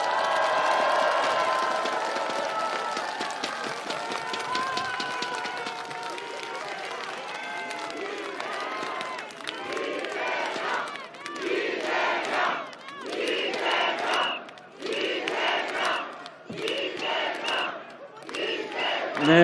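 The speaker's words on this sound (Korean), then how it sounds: "약속을 잘 지켜주시라고 큰 박수로 응원해 주십시오." Large crowd at an outdoor campaign pledge ceremony in Jeonbuk breaks into loud applause, then cheers and rhythmic chanted shouts in repeated waves with claps in between.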